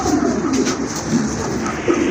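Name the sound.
male fancy pigeon cooing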